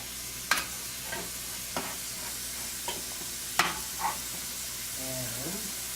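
Onion sizzles in a pan as a steady, quiet hiss, broken by several sharp utensil clicks and taps spread across the span, with a short voice-like sound near the end.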